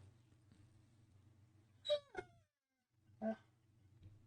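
A dog whines and vocalizes in two short, close, wavering bursts with a brief gap between, over a low steady hum.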